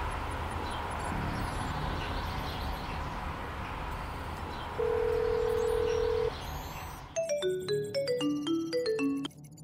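A phone is dialed to place a call, a brief steady tone followed by a rapid run of short electronic dialing beeps at close range, with faint room noise beforehand.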